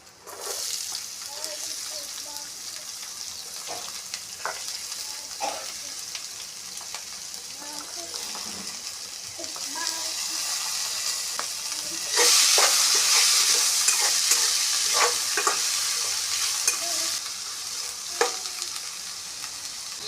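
Dry prawns fry with onions and green chillies in a pan, giving off a steady sizzle broken by scraping stirs. The frying grows noticeably louder and hissier partway through, with faint talk at times.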